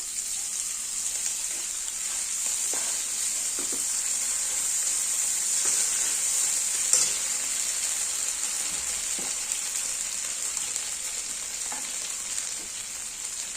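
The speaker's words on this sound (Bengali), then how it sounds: "এবার দিয়ে দেবো টমেটো কুচি, দিয়ে দেবো আদা আর জিরে বাটা," Chopped tomato with ginger and cumin paste sizzles steadily in hot oil while being stirred for a rohu fish kalia, a constant close frying hiss with a few soft scrapes and no voices.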